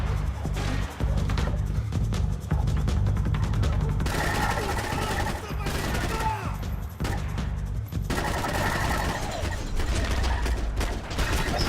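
Gunfire rattles in bursts in the video game Max Payne 3, loud repeated shots broken by short pauses over a dense, busy game soundscape, with a voice talking at times.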